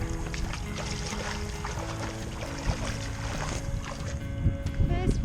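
A canoe on its first ride on the water, with low sloshing, bumps against the hull and breezy water noise, while people talk over it.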